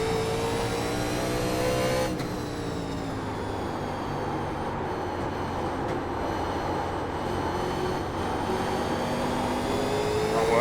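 A race car engine from the iRacing NASCAR 1987 Legends game drones steadily with layered harmonic whine, the pitch dropping after a shift early on and then holding through the rest of the stretch, moderately quiet and alone.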